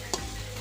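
Chili peppers stirred in a hot dry pan give a brief, quiet scrape over a soft sizzle, with one short clatter.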